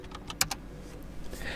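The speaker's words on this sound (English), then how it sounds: "by typing in the password and pressing enter." A few quick keystrokes tap on a computer keyboard as a password is entered on a Linux machine, soft and close with a sharper press near the middle.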